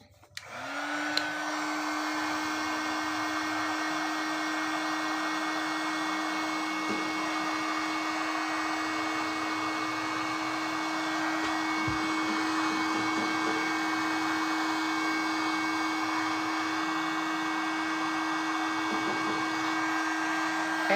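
A hair dryer switches on with a click and runs as a continuous whirring blow with a steady motor hum, drying watercolor paint on a card; it stays level and close throughout, and no one speaks.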